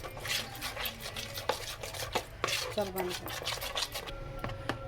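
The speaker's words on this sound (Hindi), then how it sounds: "इसको अच्छा से फेंट लेंगे" Rapid scraping and tapping of a utensil whisking milk into a sandwich mixture in a bowl, an irregular, close-up clatter with a faint voice underneath.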